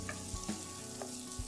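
Ginger garlic paste, cashew nuts and cross-cut capsicum sauteing in a pan for a restaurant-style veg Kolhapuri, with a steady low sizzle and a few soft stirring knocks, close and alone.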